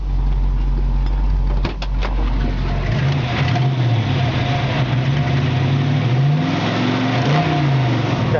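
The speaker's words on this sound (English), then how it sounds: "Got a nice aggressive sounding exhaust." A 1970 Ford Mustang Fastback with an aggressive exhaust revs up from idle, the engine note rising and falling in several loud, close throttle blips with a deep, rough rumble throughout.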